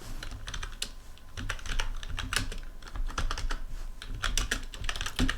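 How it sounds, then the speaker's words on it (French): Latitude and longitude coordinates typed on a computer keyboard: rapid, dense clusters of close key clicks in quick bursts, loud and continuous with no voice. "je vais taper latitude, longitude"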